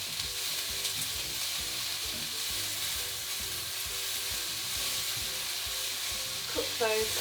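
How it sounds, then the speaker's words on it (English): Onions frying in hot oil for a chicken stew, giving a continuous loud crackling sizzle that holds steady from start to finish, with a few clinks near the end. "when you fry onions, if the oil isn't hot, all that will happen is the onion will soak up the fat"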